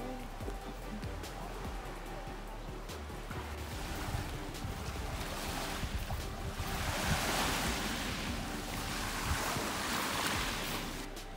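Ocean waves wash and roll onto a beach in Rovinj, Croatia, a continuous loud surf swelling toward the end, mixed with wind buffeting the microphone.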